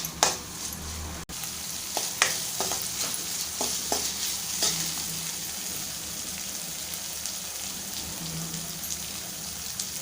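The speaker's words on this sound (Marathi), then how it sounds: "1-2 मिनिटं आपल्याला तेलामध्ये छान परतवायचं आहे।" Long-cut green chillies stir-fry in hot oil with a dense, steady crackling sizzle, close and even, broken by scattered clicks and scrapes of stirring, with no speech.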